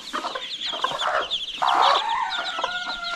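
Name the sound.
Konkan native village chickens and chicks clucking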